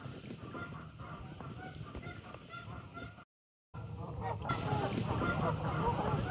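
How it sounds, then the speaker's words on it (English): Geese honking out on a lake near a campground during a rainy autumn stay, distant and layered, a low chorus of calls over outdoor ambience, with a brief dropout in the middle and no speech. "The geese are over there."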